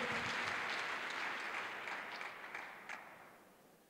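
A church congregation applauds in a reverberant hall, a dense wash of clapping from many hands that starts full and gradually fades over a few seconds, without talking.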